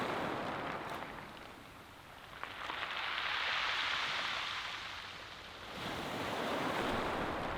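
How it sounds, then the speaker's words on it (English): Surf washing in and out over a rocky beach on the Maine coast, rattling the rocks as it drains back, in a steady broadband roar, swelling twice and easing between, with no one talking. "when the waves go back out and it's just making all those rocks"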